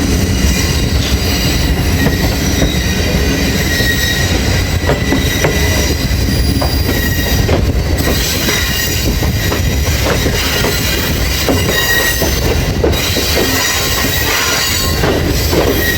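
The 14 Down Awam Express passenger train rolls loudly and steadily nearby as it approaches Hasan Abdal station in Pakistan, wheels squealing and rattling on the rails throughout, with a continuous heavy rumble and no voices.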